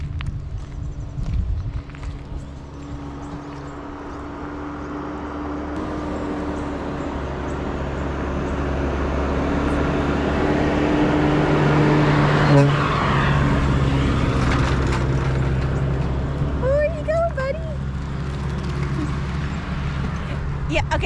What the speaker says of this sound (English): so that was like traffic here, but that's like a traffic that comes to pick up cattle